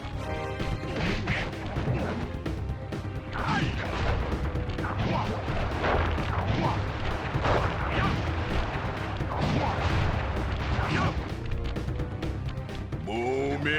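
Booming chop attacks in the Sly Cooper boss fights land as a steady barrage of loud crashing, whacking explosions, dense and continuous over game music, with no pause across the stretch.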